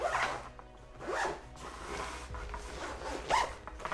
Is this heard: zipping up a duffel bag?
yes